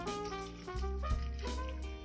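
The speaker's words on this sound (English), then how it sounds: "And now I'm just going to put some water" Distilled water poured over dried rose petals and rosehips for a homemade hydrosol, a steady close gurgling stream with a rising filling pitch lasting the full two seconds.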